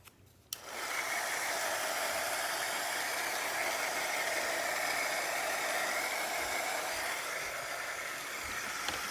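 A heat tool or dryer blows steadily over painted paintable fall craft pieces, switching on abruptly and holding a loud, even whooshing hum throughout, with no speech.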